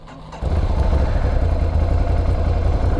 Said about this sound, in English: Boring little exhaust, that's fine. It's okay. It's stock.